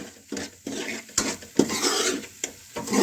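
A spoon scrapes and stirs spice masala roasting in a metal pot for rajma, giving repeated close scraping strokes and clinks over a faint sizzle, with no voices.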